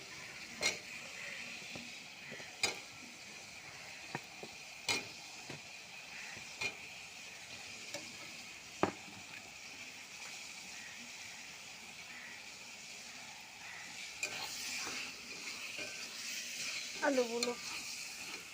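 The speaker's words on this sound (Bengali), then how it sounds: "একটু জল দেব, দিয়ে ভালো করে কষিয়ে নেব।" Spice paste (masala) sizzling and being stirred in a pan for katla kalia, a Bengali fish curry with potatoes. Steady close frying hiss with irregular scraping clicks of a spoon, and a voice briefly near the end.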